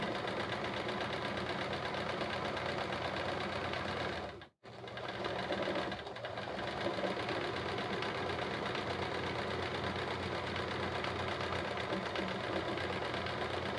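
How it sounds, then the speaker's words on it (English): A sewing machine stitches free motion quilting blocks, running with a fast, steady mechanical whir that stops for a moment partway through and then starts again, close and with no voices. "I know this can be a little difficult to see when I'm doing the free motion quilting"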